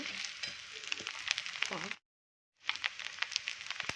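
Tempered rice with garlic and chili being stirred and mixed in a frying pan, giving a soft, steady sizzle with scraping and patter that breaks off briefly before carrying on.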